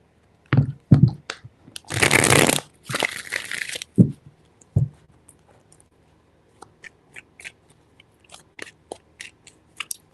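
Tarot cards are riffled in a few quick bursts of crisp fluttering, followed by scattered soft taps and clicks as the deck settles.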